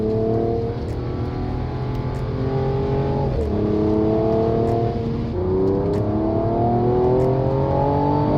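A Mercedes-AMG CLS 53 4Matic+ engine revs hard toward 6500 rpm, climbing steeply, dropping sharply at an upshift and climbing again in a loud, continuous run, heard alone.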